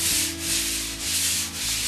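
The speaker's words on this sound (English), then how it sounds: "what works really well is a pole sander" Rhythmic rasping of a pole sander scuffing the glossy finish off a wall before painting, the hiss swelling and fading with each stroke, with no talking.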